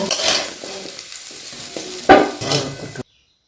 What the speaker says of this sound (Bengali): আলুটা খুব বেশি ফ্রাই করবো না অল্প সামান্য একটু ফ্রাই করবো